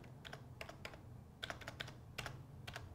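Quick, light clicks of a computer keyboard being typed on while entering a chart title in an Excel spreadsheet, a steady run of keystrokes in small clusters against a quiet room hum, with no talking.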